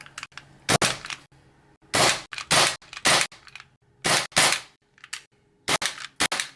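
An Air Venturi ISSC M22 CO2 blowback BB pistol fires empty with no BBs loaded, each shot a loud, sharp crack with a metallic slide snap, heard as roughly eight close reports in irregular singles and quick pairs.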